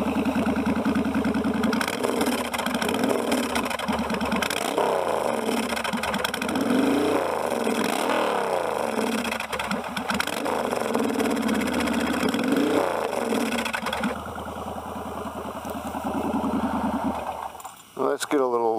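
A 1996 Suzuki Intruder VS1400 motorcycle fitted with Big City Thunder baffles idles with a steady, loud, close rumble throughout, with slight shifts in pitch. Someone talks over the engine for much of the time.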